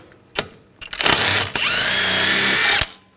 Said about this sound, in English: Now take the jam nut off, use a 24mm socket.